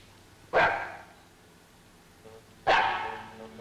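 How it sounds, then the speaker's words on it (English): A dog gives two loud, sharp barks spaced about two seconds apart, fairly close, with quiet room tone between them. "Well, there's your dog anyhow."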